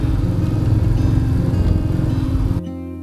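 A motorcycle engine drones steadily and close on a cold mountain road, a continuous humming rumble that drops away abruptly near the end.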